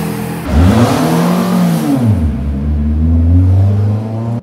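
Racing car accelerating back onto the track at the Salzburgring motorsport festival, its engine rising in pitch and then holding a loud, steady drone close by with no talk.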